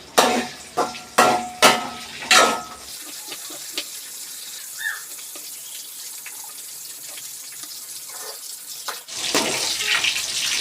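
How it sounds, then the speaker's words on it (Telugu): Eggplants (brinjals) frying in oil for a stuffed eggplant curry, opening with several loud clattering stirs and scrapes, then a steady soft sizzle that swells again near the end. "చూడండి గాయస్ వంకాయలు అయితే చక్కగా అయితే వేగుతున్నాయి"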